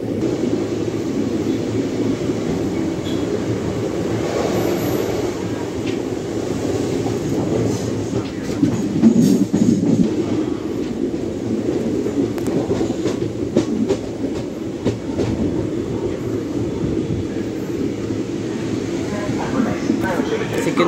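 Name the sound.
Sabari Express train arriving at Thrissur station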